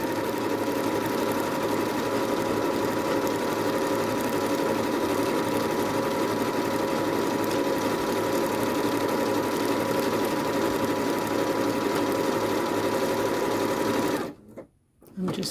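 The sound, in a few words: Janome sewing machine stitching a pattern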